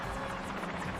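A helicopter spinning out of control, its rotor throbbing in a loud, continuous, rapidly pulsing roar that is heard close and alone.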